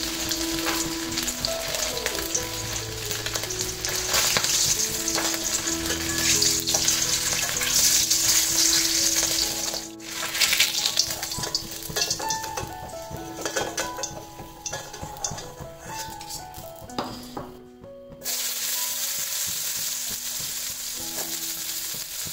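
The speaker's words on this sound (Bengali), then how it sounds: "এখন মাছটা ভেজে নেব, কিন্তু তেমনভাবে কড়া করে ভাজবো না, একদম হালকা করে আমি ভেজে নেব" Hilsa fish frying lightly in oil in a pan, giving a continuous close sizzle with occasional utensil clinks and scraping, heard under steady background music and with no talk.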